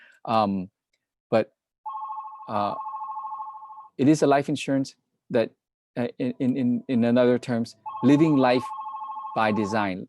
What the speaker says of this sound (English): Do apologize about the phone call there.